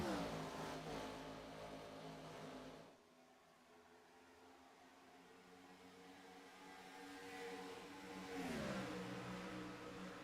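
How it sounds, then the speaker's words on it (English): Gen 4 series race cars roar around the old Atlanta Motor Speedway, a loud droning engine note that dips briefly and then rises as cars sweep past at speed. "great racing action here from Atlanta Motor Speedway early tonight"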